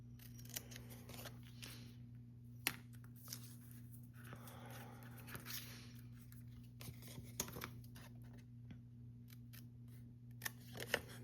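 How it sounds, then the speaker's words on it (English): Scissors snipping card stock up to a score line, a series of short, quiet crisp cuts spread across a calm room with a low steady hum behind. "you want to snip along there to the score line"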